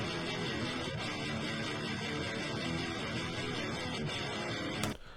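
A single-coil electric guitar, miked with Shure SM57s, plays a dense, driven passage that rings on continuously and cuts off near the end, with no talking.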